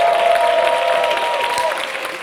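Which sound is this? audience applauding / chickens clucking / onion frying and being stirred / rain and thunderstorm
audience applauding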